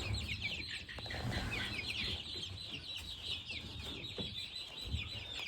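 Buff Rock chicks in a chick barn, a dense steady chorus of high peeping and clucking from many birds close by, with no talk.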